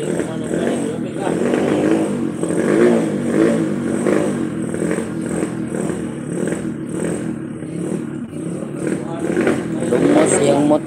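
A motorcycle engine runs close behind on a flooded street in Poblacion, Talisay City, a steady rumble with clattering and rising revs, under loud talk throughout.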